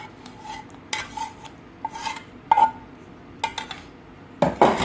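Melted chocolate and butter are tipped into a dish, heard as a series of close spoon or spatula scrapes and clinks against the dish, in short separate bursts with quiet gaps between them.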